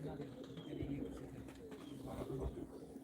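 Pigeons coo softly and repeatedly at a live pigeon auction while someone talks over them.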